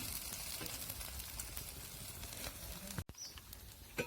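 A sabudana and potato paratha fries in oil in a pan, giving a steady close sizzle and crackle throughout, briefly broken by a clunk of the pan or utensil near the end.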